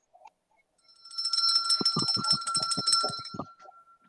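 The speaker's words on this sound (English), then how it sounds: "y'all's gonna get a bell, Tony." A bright metallic bell rings rapidly and continuously for a few seconds, loud and close, with a steady sustained ring.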